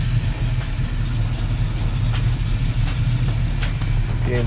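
Inboard engine of a Luhrs 28 boat idling at slightly elevated RPM, a steady low-pitched rumble that holds constant and close throughout with no speech.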